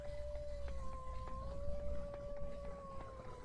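Wolves in the survival game Vintage Story let out one long, steady howl that bends slightly in pitch. A few short knocks sound over a low background rumble, and no one speaks.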